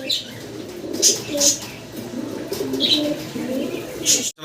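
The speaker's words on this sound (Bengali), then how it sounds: "চঞ্চল সুস্থ সবল কবুতরগুলো" Active, healthy fancy pigeons at a seller's stall coo in low rolling bursts, with several sharper chirps cutting in and faint talk in the background.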